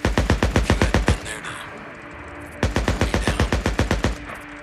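Rapid gunfire from the zombie-survival video game Days Gone, loud and close, with a burst of about a dozen evenly spaced shots, a pause of a second or so, then a second burst just as fast.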